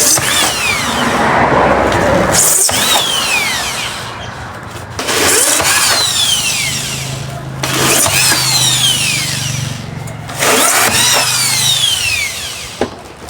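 A power drill whirs in repeated bursts, each cutting through a foam box with a harsh, rising whine, separated by short pauses between holes.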